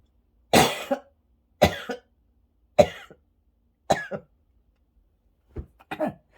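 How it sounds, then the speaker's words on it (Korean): Five or six separate harsh coughs, spaced about a second apart, close and fairly loud with silence between them. "참 이상한 대목에서 네, 이렇게 기침이 터지네요."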